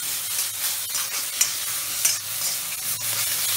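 Tomatoes frying over a high flame in an iron kadai for aloo do pyaaza make a dense, loud sizzle, broken by repeated scraping stirs and a couple of sharper clanks, close up and with no voices.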